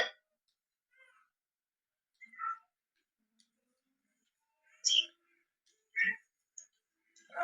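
Several short, quiet meows from a cat in a Lego video game come in scattered bursts with silent gaps between them, thin and somewhat synthetic in tone.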